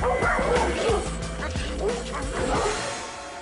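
Dogs bark in a quick burst of close, loud woofs and yips, with some whimpering mixed in, while a person talks over them.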